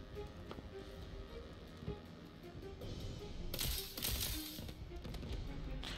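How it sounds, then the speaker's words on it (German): Gunfire in the video game Tiny Tina's Wonderlands, shots bouncing off a target, with a rapid, dense burst of loud cracks around the middle and continuous game sound before and after. "Ah, meine Schüsse prallen ab."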